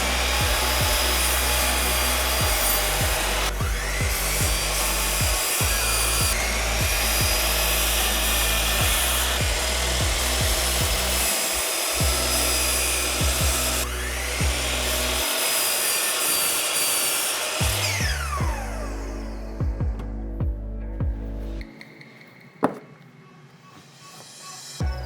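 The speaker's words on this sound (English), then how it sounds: "We're going to go over to the miter saw and we'll cut up the top" A miter saw whines loudly as it cuts wooden frame pieces for an axe throwing target, with repeated spin-ups and blade bites through the wood before winding down near the end.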